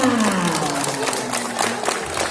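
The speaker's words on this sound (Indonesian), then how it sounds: "Wah, hebat, tepuk tangan." Schoolchildren clapping at an Indonesian Independence Day flag ceremony at school, a dense, steady burst of applause with a faint sliding tone and a few voices mixed in.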